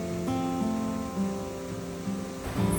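Heavy winter rain pours down steadily in Portugal, a dense, continuous wash of drops that stays loud and even throughout with no voices.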